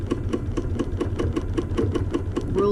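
A longarm quilting machine stitches in the ditch on white fabric with a steady, rapid mechanical chatter over a low motor hum, moving slowly and evenly, close and loud with no talking.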